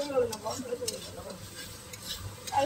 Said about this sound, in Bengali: একজন হাতা নাড়াচ্ছে